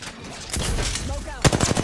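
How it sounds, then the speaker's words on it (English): Gunfire in a video game comes as a few sharp bursts, with a louder, close cluster of rapid shots near the end, over steady game background noise. "Shots fired at me."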